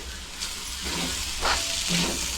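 Bitter gourd sautéing with spices in a hot pan, a steady sizzle and hiss with a few soft stirring scrapes, close and moderately loud.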